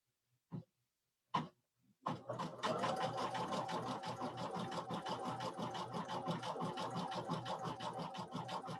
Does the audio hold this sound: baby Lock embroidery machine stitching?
yes